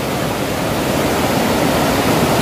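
Fast river water rushing steadily right beside a riverside house, a dense, continuous roar that stays loud and even throughout with no voices.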